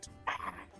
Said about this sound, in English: Hey, puppy, want to go play fetch?